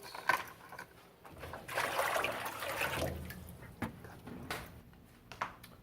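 Water splashes and trickles as clay tools are rinsed during studio cleanup, faint and close with irregular bursts and small clatters.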